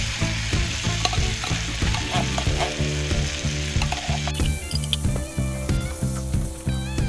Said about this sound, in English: Now go ahead and mix everything together.